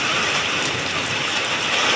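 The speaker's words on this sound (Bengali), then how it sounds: "পাগল পাড়া হাওয়া, ঠান্ডা হাওয়া, আর তেমনি জোরে বৃষ্টি" Heavy rain pours down steadily in a strong, cool wind during an afternoon downpour, a dense continuous hiss with no voices.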